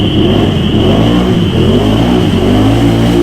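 An 850 ATV on System 3 XM310 tires revs hard through deep mud, its engine droning loud and close with rising and falling pitch and a steady high whine riding over the roar.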